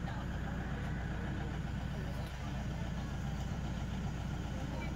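A 2011 Toyota Fortuner's engine runs steadily at close range, a continuous low drone with no clear rises in pitch.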